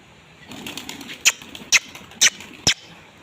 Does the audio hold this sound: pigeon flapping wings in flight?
yes